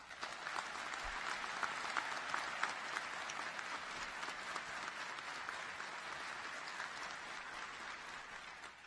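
Audience applause fills a graduation ceremony at the FBI National Academy as the FBI Director is welcomed, a steady, dense clapping from a large crowd that holds evenly for the full span.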